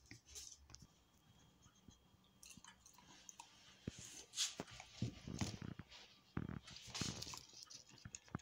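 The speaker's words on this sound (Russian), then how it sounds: "Сейчас попробую дать собачке, захочет ли она ее кушать просто так." A dog chews a Dolfos Multical vitamin-mineral tablet, quiet irregular crunching and wet mouth clicks close up, with occasional soft thumps.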